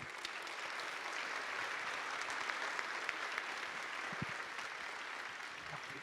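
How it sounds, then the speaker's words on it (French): Faint, distant applause at an association's annual general meeting honours the working group, a steady even patter of many hands sustained for several seconds at low level. "Donc, on peut les applaudir très fort également."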